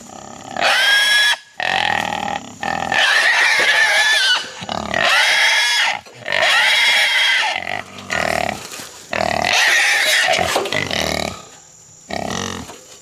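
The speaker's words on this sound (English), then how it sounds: "I hear squealing hogs, man" Hogs caught in a trap squeal loudly and repeatedly in close, harsh bursts broken by short pauses, with grunting mixed in.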